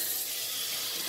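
Cool tap water runs steadily into a bathroom sink, a close, even hiss of flowing water that carries on without a break.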